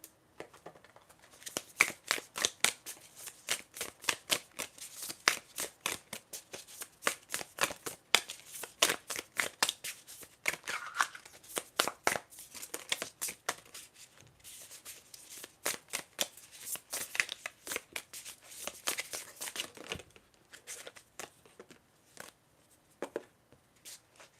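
Tarot cards being handled and shuffled, giving a long, steady run of crisp, close riffling flutters and soft slaps that goes on for over twenty seconds with no talking.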